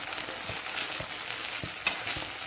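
Onions sizzle steadily in a hot pan for broken wheat upma while a spoon scrapes and stirs every half second or so, close up with no voices.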